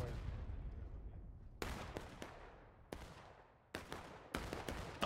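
Musket volley fire in the Civil War game War of Rights, Piper Farm map: sharp, loud broadband gunshot bursts in ragged clusters, several close shots cracking one after another over a rumbling battlefield background with distant firing.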